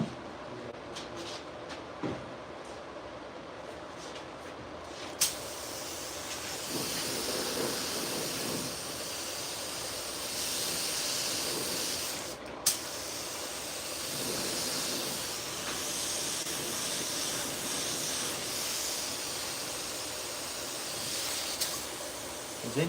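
Continuous airy hiss of a Harbor Freight green spray gun spraying paint, running in long sustained bursts with brief pauses and a few sharp clicks as the trigger is released and pulled again.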